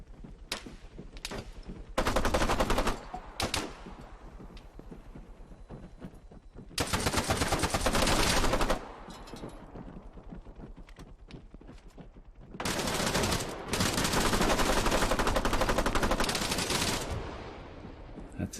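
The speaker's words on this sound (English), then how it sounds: "It's a SPAR 16 with a drum mag." Video game gunfire from a SPAR 16 rifle fitted with a drum magazine: several loud, sustained automatic bursts, the longest lasting a few seconds, separated by quieter stretches with scattered single shots and background battle noise.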